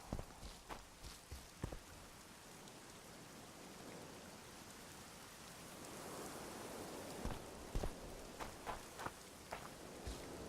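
Steady rain falls in The Witcher 2, a soft, faint hiss broken by footsteps and sharp patter-like taps that come in clusters at the start and end.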